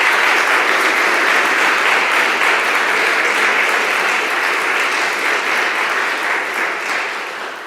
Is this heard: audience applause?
yes